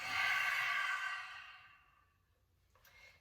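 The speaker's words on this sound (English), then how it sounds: "Open mouth, exhale." A single open-mouthed exhale at the close of a vinyasa yoga flow: a long, soft, breathy rush that starts fairly strong and fades over about two seconds, followed by a fainter breath near the end.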